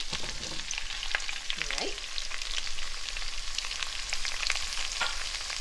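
Three big cut carrots sizzle in a pan for coq au vin, a steady close crackle with scattered pops and stirring, and a voice speaks briefly over it.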